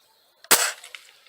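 A single sharp gunshot cracks close by during an amateur shooting competition, with a short glassy shatter of a small glass target right behind it, then scattered light clinks as the fragments settle.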